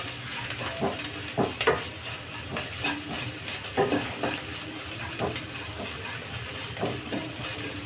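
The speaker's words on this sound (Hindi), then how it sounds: "इसको चला लेंगे, चला के हल्का फ्राई कर लेंगे इसको।" Turmeric and coriander lightly frying in a pan for lasooni palak, a soft steady sizzle broken by occasional spoon scrapes and stirring knocks, close and moderately quiet.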